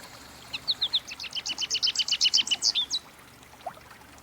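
American goldfinch calling near a quiet outdoor spot: a quick run of about fifteen bright, evenly spaced chirps lasting a couple of seconds, then a single faint note after a pause.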